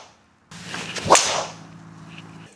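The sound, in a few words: golf drive with Titleist TSR3 driver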